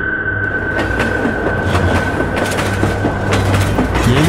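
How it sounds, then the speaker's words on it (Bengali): A train rushes close by at night with a loud, continuous rumble and rapid rhythmic clickety-clack of wheels over rail joints, alongside a steady high whistling tone, with no talking. "হুইসেল দিতে দিতে ঝড়ের গতিতে এগিয়ে আসে রাতের শেষ ট্রেন।"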